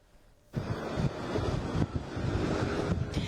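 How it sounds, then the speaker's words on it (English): Strong desert wind buffets the microphone in a loud, steady roar with gusty surges, starting abruptly after a brief quiet moment. "you can really just see how windy it is"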